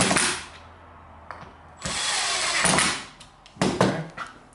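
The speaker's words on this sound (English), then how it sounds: "I'm going to grab this drill gun over here, put a Phillips head tip on it, and all I do is just drive those screws" A power drill gun fitted with a Phillips tip drives hinge screws into a frameless upper cabinet, giving a few loud whirring bursts of varied length separated by short pauses, close up, with no talking.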